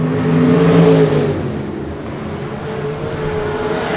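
Sprint cars in a 305 class race at Park Jefferson Speedway roar past with a loud, steady engine drone that swells early, then eases back into a sustained rumble as the field runs down the backstretch.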